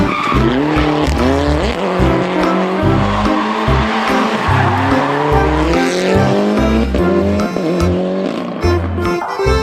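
A toy race car plays loud electronic engine and skidding-tire sound effects, a steady stepped whirr with squealing tones running throughout, with no voices.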